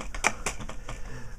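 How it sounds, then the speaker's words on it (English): Keys clack in a quick run of four or five sharp strikes in a South Park-style cartoon sketch, close and crisp over a faint background hum. "I'm going back typing in with Wendy"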